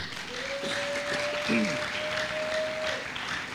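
Church congregation clapping during a French-language sermon by Pastor Eric Nsenga, a scattered patter of hands over a sustained organ-like tone, with a voice calling out briefly in the middle.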